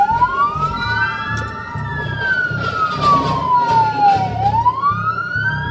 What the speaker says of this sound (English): Go ahead and reactivate your lights and sirens there